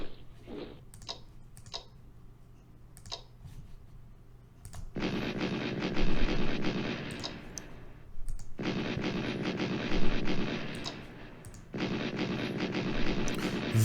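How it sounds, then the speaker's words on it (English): Artillery fire in the Strategic Command World War 2 game during the Battle of Peleliu, several sharp distant thumps followed by three long, loud rumbling barrages separated by brief pauses, with faint clicks in between. "Very poorly placed artillery rounds there."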